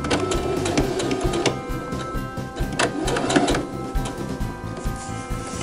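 A sewing machine stitches a back tack on a tote bag binding, a close busy rattle with uneven surges and sharp ticks as the stitching starts, reverses and finishes.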